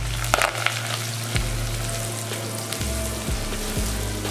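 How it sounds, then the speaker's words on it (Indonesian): Sliced shallots fry in hot oil for crispy fried shallots, giving a loud, continuous close-up sizzle with a few stirring scrapes and no talking. "bawang merah ya saya goreng ya, jadi bawang goreng."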